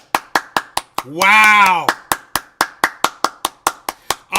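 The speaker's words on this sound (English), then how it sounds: "Everybody stand up and applaud for the Pope." Crowd of Catholics at a rally giving the Pope a standing ovation: steady rhythmic clapping, close and loud, interrupted by a single voice exclaiming in the middle.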